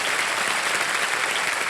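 Studio audience on a Hindi TV quiz show claps steadily, a dense, loud, even wash of applause with no voices over it.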